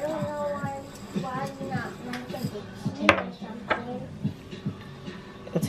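Knife chopping lasagna ingredients such as garlic and fresh basil on a cutting board in a home kitchen, with irregular taps and clinks of utensils, heard close under a person speaking.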